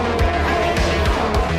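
Formula 2 race cars in the PC racing sim PSGL, round at Brazil, roar steadily with rising and falling engine pitch as they shift gears and pass close by, layered over one another with no talk.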